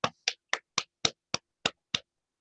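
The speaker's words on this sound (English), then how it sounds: "give themselves a big round of applause" Hand claps during a Zoom webinar: eight crisp, evenly spaced claps from a single nearby source, fairly quiet, then silence.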